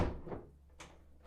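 A key turns in a door lock latch, giving a few short mechanical clicks and a soft clunk close by.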